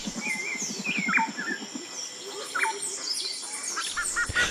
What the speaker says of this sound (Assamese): সন্ধিয়া চৰাইজাকে বাঁহত গীত জুৰিছে